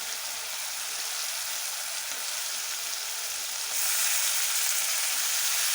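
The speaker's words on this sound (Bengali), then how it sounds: "তেল ছেড়ে দিয়েছে এবার আমি মাংস পিসগুলো একে একে দিয়ে দেবো" Chicken pieces sizzle in hot oil with Kashmiri chili powder and spices, a steady loud hiss that swells louder partway through and goes on with no talking.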